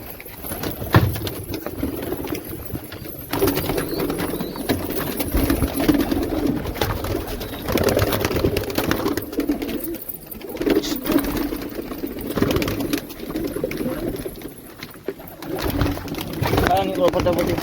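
Pigeons coo softly in a home setting, their low burbling calls mixed with near, overlapping voices and bits of knocking and shuffling throughout.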